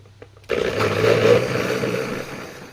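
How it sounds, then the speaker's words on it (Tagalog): A blender mixing bitter gourd cracker ingredients whirs steadily after a quiet start, its motor droning evenly for a couple of seconds before easing slightly. "Blender lang po natin yung mga sangkap para maghalo-halo."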